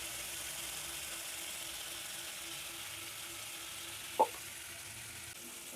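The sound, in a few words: prawns frying until red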